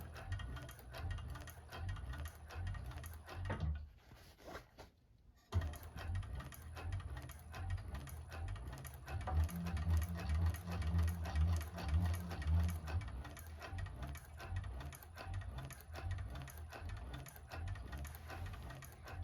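A 1341 cylinder arm sewing machine stitches a bag, running steadily at a slow pace with a brief pause, then a louder, denser rhythmic stitching stretch near the end.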